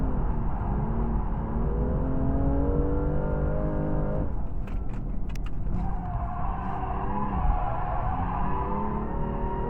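A car engine at a drift night at Sydney Motorsport Park drones loudly and steadily in fourth gear, heard from inside the cabin, with brief rattles midway.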